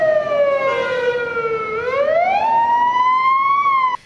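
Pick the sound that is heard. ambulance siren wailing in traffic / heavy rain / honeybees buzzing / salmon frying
ambulance siren wailing in traffic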